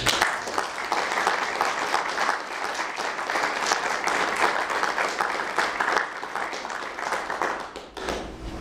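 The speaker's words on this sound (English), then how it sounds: "I want us to give you a round of applause" A room of attendees at a university Board of Regents meeting gives a long, steady round of applause, a dense wash of clapping that carries on evenly throughout and tapers slightly at the close.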